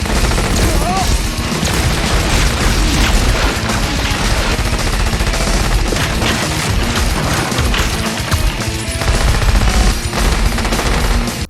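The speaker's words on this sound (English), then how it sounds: "the soldiers just start shooting simultaneously" Soldiers fire at once in a Stranger Things battle scene. Loud, dense machine-gun fusillades rattle continuously, with booming hits and crashes under a score, and voices come through the din.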